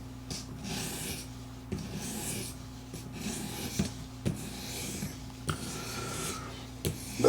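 A knife blade is drawn repeatedly across an Apex Edge Pro sharpening stone, producing rhythmic close-up rasping strokes, each a short scraping sweep followed by a brief pause, fairly quiet against a low background hum.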